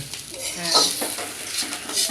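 Fish and onions frying in a pan, with a continuous sizzle and occasional scraping stirs that rise briefly mid-clip, fairly close.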